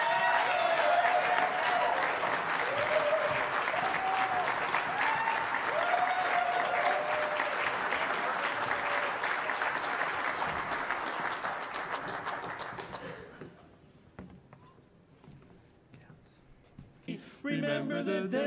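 An audience applauds to welcome a band, sustained dense clapping with some crowd noise and a voice over it, fading out near the end before music begins.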